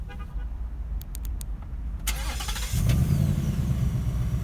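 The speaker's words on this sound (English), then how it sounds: "So as you guys can see, the remote start works very well." A 2018 Ford Mustang GT V8 firing up on remote start, a few clicks and a starter whir, then the engine catches and settles into a deep, steady idle rumble nearby.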